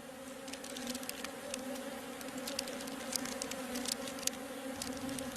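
Honey bees buzzing inside a hive, a dense, steady hum of many insects with faint scattered ticks and patters on top, quiet and close, no voices.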